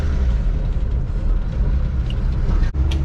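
A 1980 Dodge D100 pickup truck, back on the road after years parked, rolling along with steady low engine rumble and road noise heard from inside the cab, loud and continuous.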